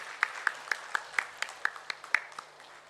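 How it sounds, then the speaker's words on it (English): Sparse applause at the close of a hospital accreditation event's inaugural session: a handful of distinct, evenly spaced claps, fairly faint and roomy, with no talking. "the applause can be a little louder"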